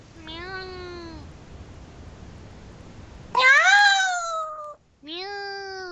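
A person imitates a cat with a few loud, drawn-out meows, one short call, then a pause and two stronger, higher, more strained meows, close to the listener.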